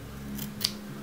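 Scissors make a single quick, crisp snip while trimming natural hair, close and quiet against a soft room hush, with no voices.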